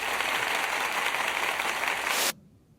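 Steady wash of crowd applause, dense and loud, holding evenly for over two seconds before cutting off abruptly into near silence.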